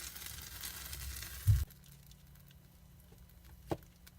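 One sausage patty frying in a 6-inch XYY mini skillet, a soft steady sizzle with faint crackles that drops quieter partway through, with a small clank near the end.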